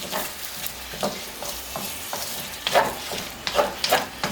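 A spoon scrapes and pushes sweet and sour pineapple shrimp around a pan over a soft sizzle, making irregular close strokes and clinks that grow louder and quicker toward the end.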